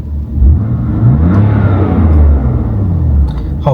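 A tuned BMW M4 F82 engine revs loudly and steadily, a deep sustained roar with rising and falling pitch close to the microphone, ending with a few faint clicks.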